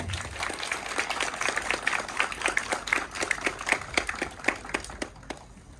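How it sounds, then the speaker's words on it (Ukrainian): An audience claps for the 2023 graduates at a vocational lyceum graduation ceremony in Zolochiv. The applause is steady and rhythmic, moderately distant, and thins out and fades to quiet in the final second. "Вітаємо оплесками!"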